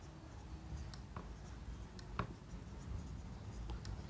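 Marker or chalk writing on a board during a lecture: faint scratchy strokes and a few small taps come and go over a steady room hum, with no voices.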